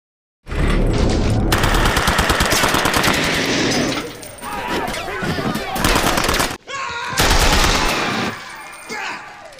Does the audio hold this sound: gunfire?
yes